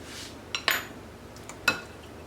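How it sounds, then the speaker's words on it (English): Metal spoon clinks against a pan as meatballs and sauce are spooned into bird nest cups, a few sharp scattered taps and scrapes over quiet kitchen background. "So then we're just gonna take a meatball and a little bit of sauce"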